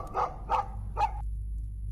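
Three sharp barks from a dog in a budget Russian holiday video game, spaced about half a second apart over a low steady hum, then quiet.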